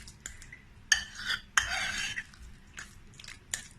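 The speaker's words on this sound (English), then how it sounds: "You mix everything to marry each other." A creamy, mayonnaise-free salad dressing is stirred in a bowl with a utensil, giving close, irregular scrapes and clinks against the sides in short bursts separated by brief pauses.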